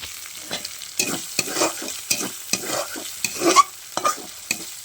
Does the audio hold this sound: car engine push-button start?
no